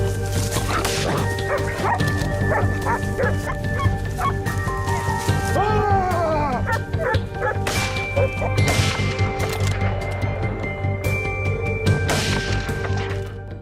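Hunting dogs bark and yip steadily while tracking wild boars, several dogs overlapping with whimpers and whining cries over a constant low outdoor rumble, with some voices mixed in.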